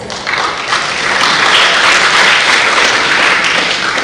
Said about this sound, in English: Please welcome him with our claps.